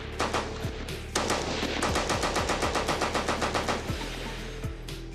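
A WW1-era machine gun fires a long, steady burst of evenly spaced, loud close shots, with a few single reports before and after and no talk.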